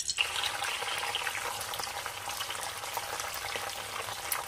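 Beaten eggs fry in hot oil in a kadai, giving a steady, dense sizzle and crackle that holds evenly throughout with no voices over it.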